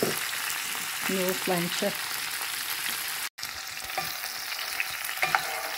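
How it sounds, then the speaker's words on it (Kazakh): Bell pepper frying in hot oil in a pan, a steady close sizzle with stirring scrapes throughout, briefly cut out near the middle, while a person speaks a short word in Kazakh. "Болгар бұрышын қысып тұрған майымызға азыр қуырып аламыз."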